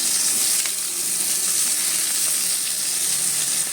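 Thickly cut onions frying in hot oil after fried lentil dumplings were lifted out, a dense continuous close-up sizzle holding steady throughout with no speech.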